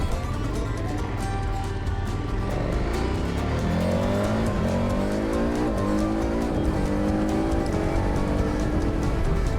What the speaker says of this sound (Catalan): Quin gas que té aquesta moto, Déu meu.